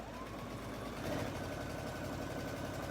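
A sewing machine fitted with a pearl and piping foot stitches steadily, a continuous close mechanical whir and rapid needle chatter humming evenly throughout without pause.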